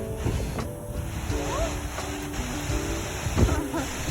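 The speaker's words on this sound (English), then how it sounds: "The water was just going down those stone steps" Water cascading down the stone steps of the Fort Worth Water Gardens makes a steady, close rushing roar, with faint voices nearby.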